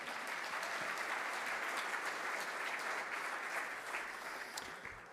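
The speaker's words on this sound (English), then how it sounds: "Let's give them another round of applause." Steady applause from a large audience at a Hermann Trophy awards event fills the room, an even wash of clapping heard from a distance and fading slightly at the end.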